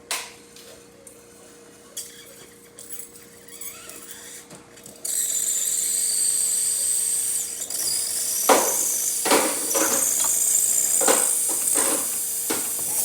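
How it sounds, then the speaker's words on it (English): Steam wand on a freshly serviced Breville espresso machine releasing a strong, steady hiss that starts abruptly partway through and runs to the end, with a few brief louder bursts near the close. "Nice, quick, strong, dry steam."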